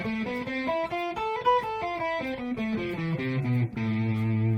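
Electric guitar with slight distortion running a quick Lydian pentatonic scale pattern up and back down, single notes played close and steady, ending on a held low note.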